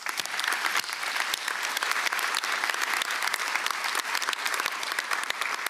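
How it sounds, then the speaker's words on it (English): A commencement ceremony audience claps for staff, a steady wash of many hands clapping with distinct individual claps throughout, moderately loud and without talk. "Please give a round of applause to all of our staff."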